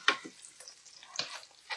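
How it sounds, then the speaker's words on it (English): Onions frying in a pan as they are stirred, with faint sizzling and a few soft scrapes of the spoon, heard close and quiet over a short stretch. "let me stir these onions"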